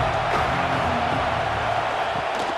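A stadium crowd at a Ball State vs Auburn college football game roars in a dense, unbroken wall of cheering that holds steady throughout.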